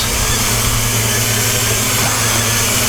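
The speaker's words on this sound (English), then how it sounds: "I'm full throttle up. Let's just see what happens." Motors of a JJRC H40WH land/air tank drone held at full throttle on low battery, making a loud, continuous, steady whine that stays even throughout.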